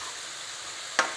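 Onion and Swiss chard stems cook gently in a pan with a faint, steady sizzle and crackle, close by, punctuated by a single brief stir or scrape near the end.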